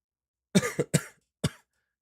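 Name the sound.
cough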